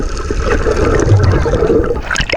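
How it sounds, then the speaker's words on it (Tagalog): Strong waves splash and slosh against a small boat during a boat ride at sea off Sariaya, Quezon, a close, continuous watery rush with gurgling bursts and no clear speech. "Ang lakas ng alon."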